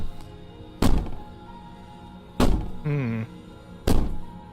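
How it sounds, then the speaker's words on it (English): In the horror game Slay the Princess, heavy bangs hit a door: three loud, separate thuds about a second and a half apart, close and booming, with a short tonal game sound between two of them. "Bang on the door all you want"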